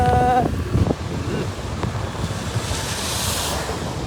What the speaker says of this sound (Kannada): ಇಲ್ಲಿ ಬೀಸುವ ಗಾಳಿ ಊರಲ್ಲಿ ಹಾಕಿಲ್ಲ